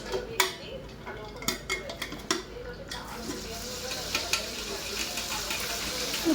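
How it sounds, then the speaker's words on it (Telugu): Chicken pieces dropped into hot oil for pickle, with clattering utensil stirs at first giving way to a steady, rising sizzle of frying. "కొంచెం చికెన్ వేసుకొని ఫ్రై చేసుకుంటాం."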